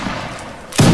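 A single loud musket shot cracks close by during a Napoleonic-era line battle in a video game. Quiet ambience precedes the shot, which lands sharply near the end.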